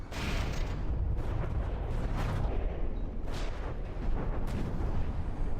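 Cram cannon shells exploding in the naval combat game From the Depths, deep rumbling booms rolling one after another at a distance, loud and continuous with no voices.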